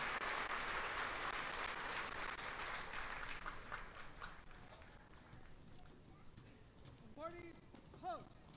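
Audience applause for Army retirees and their families at a basic training graduation ceremony at Fort Jackson, a broad crowd clapping that gradually thins and fades, with a voice speaking near the end.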